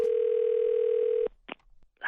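A steady telephone dial tone hums loud and clear for over a second before it cuts off, followed by a few brief clicks and bits of sound on the line.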